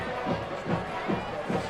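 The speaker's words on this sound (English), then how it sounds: "The homecoming crowd is" Homecoming crowd noise from the stands at a high school football game, a broad continuous murmur with small swells of cheering, heard at a distance.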